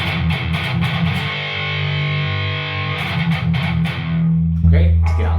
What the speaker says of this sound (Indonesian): bagaimana caranya agar suara distorsi gitar kalian tebal